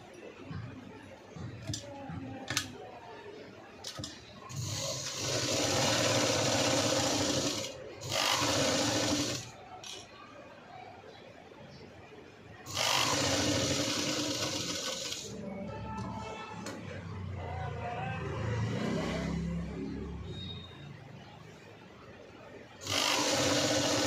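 Sewing machine stitching the neck of a V-neck cut-work blouse, loud whirring runs in several bursts separated by short pauses and fabric handling, close by with faint talk underneath.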